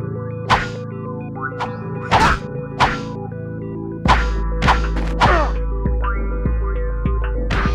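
Repeated whacks on a test dummy in the video game Ratchet & Clank 2, about eight sharp impacts in an irregular rhythm over a steady droning game background, with a louder low hum joining halfway through.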